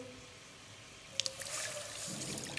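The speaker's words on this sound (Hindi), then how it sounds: "ये मैंने पानी डाल दिए" Water is poured into a cooking pot for turnips and turnip greens: a few faint drips first, then a steady, gentle, close-up splashing pour.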